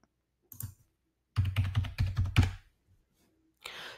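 Typing a password on a computer keyboard: a short burst of clicks, a pause, then a rapid run of several keystrokes and one final key press, close and crisp with no talking.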